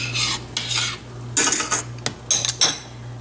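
A spoon stirs turmeric and chicken bouillon powder into rice in a pot, making repeated scraping and clinking strokes in short bursts over a faint steady hum.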